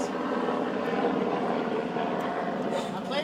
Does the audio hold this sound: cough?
no